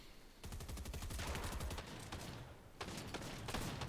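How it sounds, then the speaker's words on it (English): Submachine guns firing in a battle royale game, dense overlapping bursts of rapid shots, loud and near, with a brief dip before another burst resumes, and no talk. "They're just raining down SMG shots on everybody."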